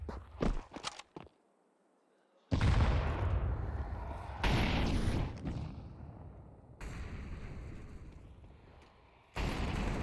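Shooter video game gunfire during a tournament grand final match, sharp bursts of shots early, then heavy loud blasts and sustained firing in blocks separated by near-silent gaps, with no commentary audible.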